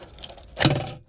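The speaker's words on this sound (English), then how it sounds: "Then I've got a few keys" A small bunch of keys jangles close up, with light metallic clinks that build to a brief louder rattle before falling silent.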